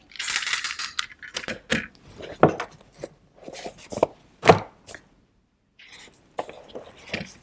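Paper being cut to make a small slit for a junk journal, a series of crisp, irregular snips and sharp taps at close range with short pauses between, no talking.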